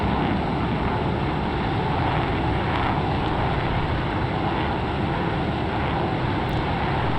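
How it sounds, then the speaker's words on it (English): Twin-engine F-15EX jet on landing approach with gear and flaps down, a steady, loud, broadband engine roar that continues without a break from start to finish. "we'll add some power, put the wheels down, gear and flaps down, come around and land"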